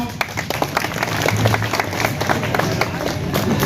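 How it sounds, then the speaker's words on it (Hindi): Schoolchildren at a village gathering clap together in sustained, dense applause, a busy wash of many hands continuing steadily throughout at moderate volume. "एक बार ताली बजाइए बच्चों।"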